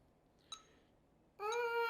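A trumpet fitted with a high-register mouthpiece sounds a bright, sustained tone near the end, entering abruptly after a brief faint blip and held steadily and close.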